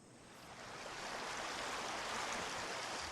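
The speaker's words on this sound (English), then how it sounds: "There's plenty of water up here, though. Streams of it stained gold by plant tannins." A stream flowing on the rocky summit of Mount Roraima, a broad, steady rushing hiss of running water that swells slightly louder over a few seconds, with no voices.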